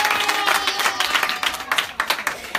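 Scattered applause from a small crowd at a neighbourhood donation event for children, a few loose rounds of clapping rising and falling across the moment, moderately close and without speech over it.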